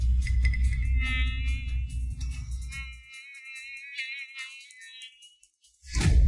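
Mosquito whine as a story sound effect, a thin high-pitched wavering buzz that carries on alone after a low rumbling layer drops out, then fades before a sudden louder hit at the end.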